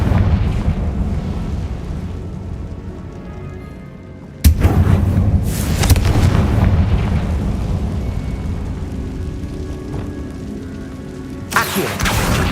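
A Confringo explosion spell goes off in Hogwarts Legacy inside a tomb, a sudden loud broadband blast that cuts over a low ambient rumble and then rolls into sustained crackling debris, with a second burst near the end.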